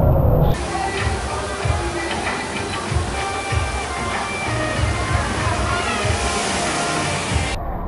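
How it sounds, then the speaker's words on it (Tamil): Water cascades and splashes at a theme park water play area at MGM Dizzee World, a loud sustained rush and slosh of pouring water, close by and continuous for several seconds. "ஆக்சுவலி பார்த்தீங்கன்னா இந்த ட்ரம்மு ஃபுல்லானதுக்கப்புறம் இப்போ தண்ணியில் கொட்டோம்."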